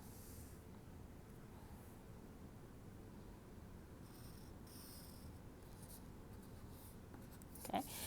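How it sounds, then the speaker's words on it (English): A pen draws a solid line on paper while graphing linear inequalities, a soft continuous scratch close by and quiet throughout, ending in a brief louder tap. "so I'm going to draw a solid line"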